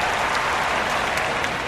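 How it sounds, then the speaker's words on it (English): Steady crowd cheering and applause from Phillies fans in the Action PC Baseball video game, a dense continuous roar after the first out of a 1971 Giants vs 1976 Phillies matchup, with no talk over it. "Phillies fans cheer the first out of the game."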